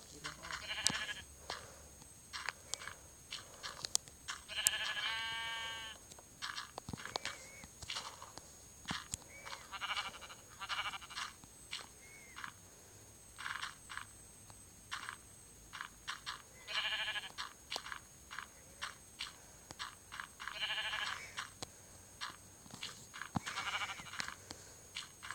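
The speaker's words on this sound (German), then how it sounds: "Was wollen die Schafe von mir?" Sheep in Minecraft Pocket Edition bleat repeatedly, several distinct game baas scattered among clicks and footsteps, while players talk in German throughout.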